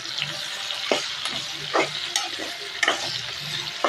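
Sliced bitter gourd and onions frying in an oil pan, a close steady sizzle broken by several sharp scraping stirs of a spatula at irregular intervals.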